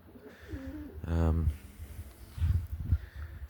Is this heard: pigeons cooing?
yes